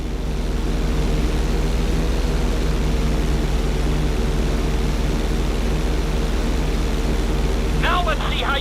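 A propeller airplane drones steadily in GTA V, a constant engine hum while the plane performs barrel rolls, with a brief chirp near the end.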